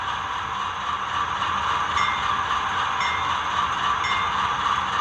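A Santa Fe C44-9W model locomotive hums steadily along its track, a continuous motor whir with faint rhythmic clicks as it pulls away.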